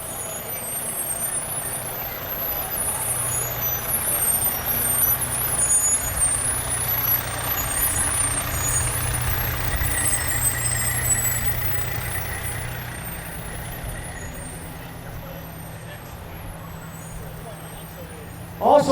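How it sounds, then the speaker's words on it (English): A 1998 Seagrave straight aerial ladder fire truck rolls past in a firemen's convention parade, its engine a steady low rumble with crowd noise and talk around it, and a sharp sound right at the end. "From our friends up in Luzerne County, the Freeland Fire Department, we have Truck 136, a 1998 Seagrave"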